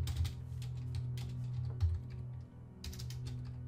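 Fingers type a message on a computer keyboard in quick, irregular bursts of clicks with short pauses, close and fairly quiet, with no talking.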